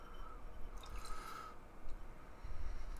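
Beer, a Noon Whistle Brewing Waving At Strangers, poured into a large tulip glass, giving a soft liquid splash and gurgle with faint drips over about three seconds, close by and fairly quiet, with no talking.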